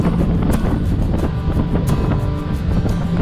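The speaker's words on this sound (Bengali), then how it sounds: "নীল সমুদ্রের উপর দিয়ে স্পিড বোট ঝড়ের গতিতে এগিয়ে যাচ্ছে" A speedboat races across open blue sea off Havelock Island in the Andamans, carrying tourists to Elephant Beach; a steady roar of engine and rushing wind with slapping water and periodic hull thumps fills the whole stretch, close and loud.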